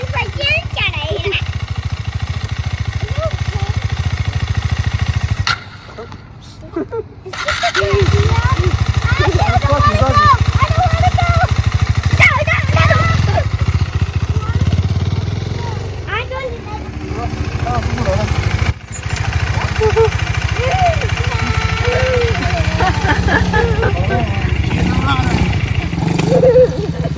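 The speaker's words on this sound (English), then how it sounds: "That's a dirt bike." A dirt bike motorcycle engine runs loud and steady under frequent children's and adults' talk, with a brief drop near the middle before the engine noise resumes.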